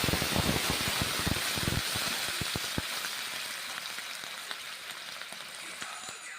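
Mixed vegetables for a Bengali pancharmishali sabji sizzle in a pan after water is poured in, with dense clicks and pops at first that thin into a steady, fainter hiss.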